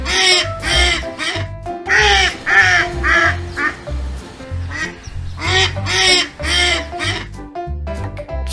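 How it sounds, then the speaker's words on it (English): A duck quacking in loud, rapid bursts of harsh nasal calls, grouped in several clusters with short pauses between, close and clear. "duck"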